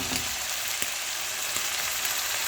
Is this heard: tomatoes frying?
yes